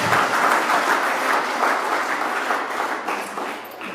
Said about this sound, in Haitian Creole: On nous applaudit bon Dieu pour talent dans l'église.